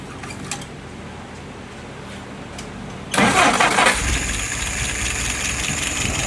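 An engine cranks and catches after a few seconds of quiet hum, then settles into a steady, loud idle running on to the end.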